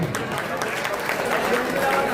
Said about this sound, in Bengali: ওর জন্য একটু হাততালি হোক।